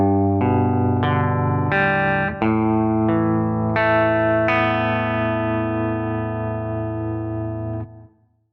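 Distorted electric guitar picks the opening arpeggiated chords of a song, string by string with an upstroke, notes ringing together loudly before fading out near the end.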